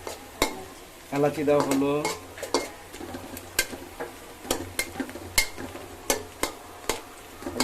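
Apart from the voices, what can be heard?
stirring spices frying in a pot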